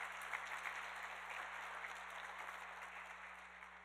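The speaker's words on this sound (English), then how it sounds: "So how about a huge round of applause for them as well." Audience applause at a conference opening session, a steady sustained wash of many hands clapping across the whole stretch, slowly tapering toward the end.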